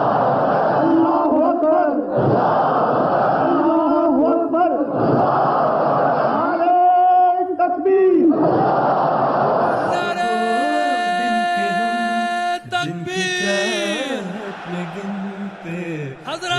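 A large crowd at a religious gathering answers a leader by chanting the slogan Allahu Akbar in loud, repeated swells, and the chant gives way to sustained tonal voices toward the end.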